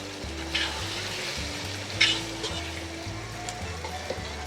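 Green chillies, eight to ten of them, fry in hot oil in a pan for a restaurant-style chicken white pulao. The sizzling runs steadily throughout, with a few sharper spits and crackles and some stirring.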